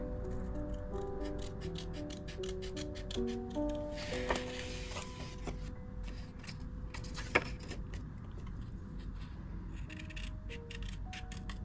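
Scissors snip and slide close up, cutting paper banners, with a few sharp cuts, light rustling and small clinks in a quiet room.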